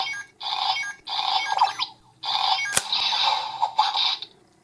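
A Kamen Rider Gaim DX Sonic Arrow toy bow plays its weak attack sound through a small electronic speaker: loud, bright tinny bursts in stop-start pulses, a sharp click partway through, then more electronic tones before it cuts off.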